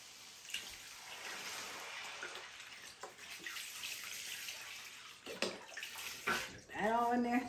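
Beef broth pours from a 32-ounce carton into a soup pot with stewed tomatoes, a faint splashing gurgle that grows louder toward the end, with a voice speaking over it.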